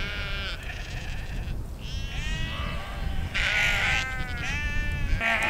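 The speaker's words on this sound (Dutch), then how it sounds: "er loopt een hele kudde schapen hier voorbij" A flock of sheep bleats repeatedly, several animals calling over one another at close range against a steady outdoor rumble.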